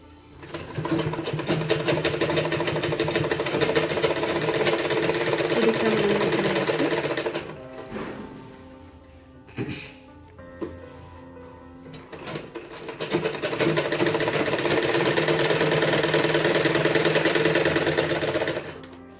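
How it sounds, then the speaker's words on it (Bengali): A sewing machine stitches the side seam of a salwar in two long loud runs of fast rattling needle strokes, separated by a pause with small clicks and handling sounds. "একদম এই সাইড থেকে সেলাই করে একদম প্রান্তের অপর প্রান্ত পর্যন্ত চলে আসবো"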